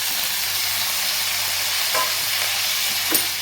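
Sausage frying in a little coconut oil in a pan, a steady close hiss and sizzle with a couple of brief stirring scrapes.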